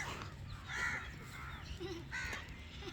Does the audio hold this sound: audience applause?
no